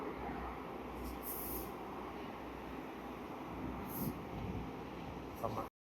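A local passenger train in Taiwan, heard as a steady, broad rumble from a station platform, with voices speaking over it throughout before it cuts off abruptly.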